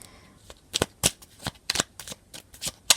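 A small forest-themed oracle deck by Claire Duval is shuffled in a rhythmic run of crisp riffles and slaps, close and fairly loud, one card jumping loose from the pack.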